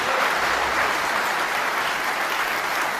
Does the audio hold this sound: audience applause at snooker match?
yes